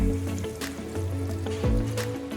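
Water poured into a karahi simmering on the stove makes a steady trickling splash over a low, constant hum.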